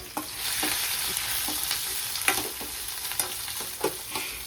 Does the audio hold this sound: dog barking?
no